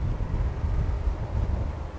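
Wind gusts across an open golf course, buffeting the microphone with a steady low rumble and roar that stays loud throughout, with no voices.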